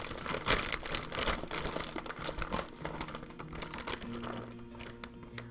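Plastic food packaging crinkles and crackles in dense, close bursts while baking savory bacon cheddar chive scones, with a faint low tone underneath toward the end.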